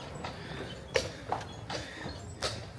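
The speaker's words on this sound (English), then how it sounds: "Got a horse and carriage in front of us," A horse pulling a carriage clip-clops at a slow, uneven pace over a steady outdoor background hum, with the hoof strikes sounding fairly close.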